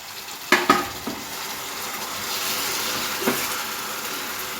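Apple pieces for an apple pie filling stirred in a hot pan, a couple of quick utensil knocks at the start, then a soft, even sizzle that continues without talk.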